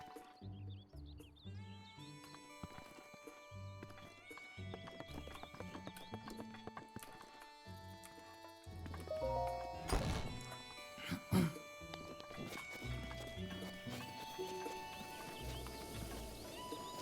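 Horse hooves clip-clop in The Legend of Zelda: Breath of the Wild, a steady trotting rhythm with an occasional whinny, heard amid game music and ambient effects over a long stretch and growing louder toward the end.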